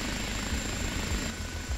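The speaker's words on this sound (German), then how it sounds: "Okay, Hubschrauber läuft." A Bell OH-58D Kiowa Warrior helicopter in the DCS flight simulator runs steadily, its engine and rotor giving a dense, loud, continuous roar with a faint high whine and low rhythmic thudding, no voices.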